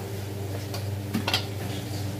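Stacked pieces of cut cabbage tapped on a kitchen surface to even them out, a few soft knocks and clatters close by, brief and light against a quiet room hum.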